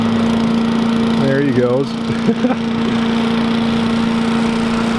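A mini bike engine drones steadily as it rides around an abandoned racetrack used for drifting, with a rising and falling whine as it passes; someone speaks briefly over the continuous motor noise.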